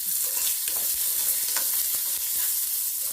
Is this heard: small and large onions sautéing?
yes